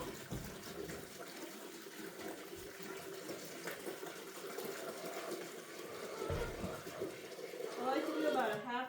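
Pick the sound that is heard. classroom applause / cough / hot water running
hot water running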